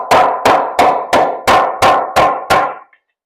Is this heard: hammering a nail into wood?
yes